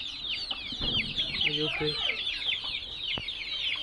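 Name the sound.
chickens clucking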